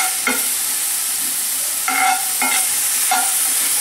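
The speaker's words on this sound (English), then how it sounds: "So I'm going to just stretch the onions out on high flame." Sliced onions stir-frying over a high flame for sweet and sour chickpeas, with loud steady sizzling and four distinct spatula scrapes at irregular intervals, close up and free of talk.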